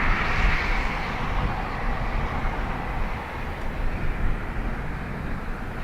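A Ryanair jet taking off at Dublin Airport, bound for Edinburgh, gives a steady, fairly loud engine roar with a hissing upper edge that fades slightly after the first second, no voices heard.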